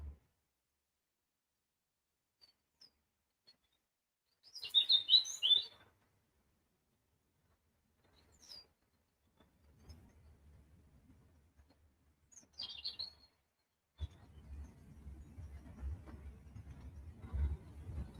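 Small birds chirp in a feeding area where birds and other animals are fed, two brief high bursts a few seconds apart, followed by faint rustling and low shuffling noise.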